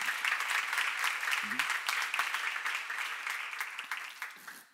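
A church congregation claps together during a seminar in a brisk, continuous burst, the applause gradually thinning toward the end with a faint voice briefly underneath.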